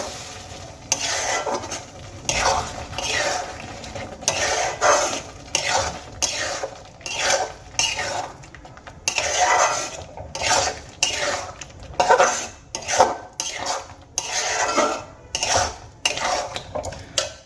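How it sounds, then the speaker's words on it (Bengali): A spoon or spatula stirs Bengali-style chicken vorta with fresh cream and roasted kasuri methi in a pan, making repeated scraping, clinking strokes over a soft sizzle, close and fairly loud. "এবার খুব ভালো করে একবার মিশিয়ে নেব।"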